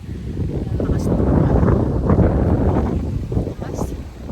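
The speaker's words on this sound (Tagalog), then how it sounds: "Ang lamig dito, ang lakas ng hangin." Strong, cold wind gusting steadily across an outdoor spot, a loud continuous low roar buffeting the microphone throughout, with a voice talking faintly underneath.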